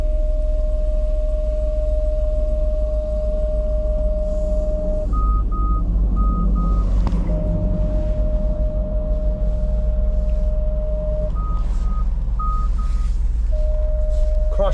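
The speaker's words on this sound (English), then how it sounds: "It's beeping right now because my bike rack is back there." A Jeep Wrangler's cross traffic alert beeps while reversing toward a rear bike rack: a long sustained tone, then bursts of short higher beeps, repeating over a low idling engine rumble.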